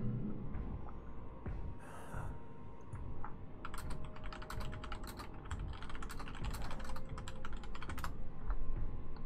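Rapid keyboard typing clatters close by during a live game stream, bursts of quick key strikes after a quieter opening, over a low steady room hum.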